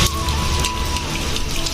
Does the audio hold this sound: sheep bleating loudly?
no